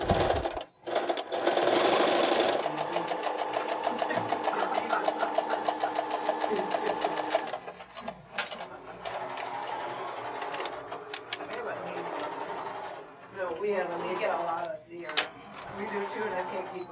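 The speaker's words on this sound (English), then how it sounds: "Now I have to stay stitch the neckline so it doesn't stretch out of shape." A sewing machine stay stitches the neckline of a garment, whirring in a fast, steady run of stitches for several seconds and then starting and stopping in shorter bursts. The sound is close and fairly loud.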